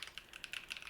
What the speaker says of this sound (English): I'll slow down my typing so I don't do that again